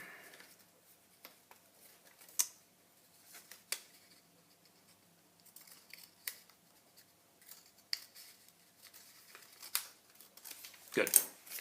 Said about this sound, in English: And we'll cut the other side as well.